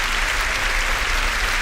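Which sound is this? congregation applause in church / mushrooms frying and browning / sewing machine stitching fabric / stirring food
congregation applause in church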